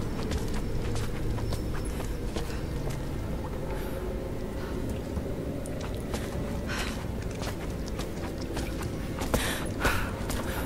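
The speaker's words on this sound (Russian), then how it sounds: "Что тут за лошадь у нас?" Horse hooves clip-clop in the video game Rise of the Tomb Raider, set against a dense, steady ambient wash that stays loud throughout, with the hoof beats blending into the background.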